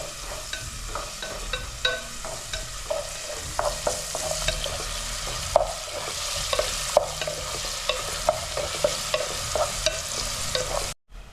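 Green chili pieces sizzling and being stirred into a simmering meal maker (soy chunk) curry in a pan, with a steady close hiss broken by repeated scraping stir strokes, alone with no talk, ending abruptly.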